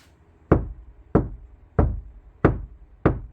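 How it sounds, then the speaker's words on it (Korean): Five sharp, evenly spaced knocks land on the outside of a closed car door housing a speaker enclosure, each a dull, slightly woody thud with a quick decay, close and clear with nothing else heard. "한 번 더 두드려 보고 문을 닫고 바깥쪽에서 한번 두드려 보겠습니다."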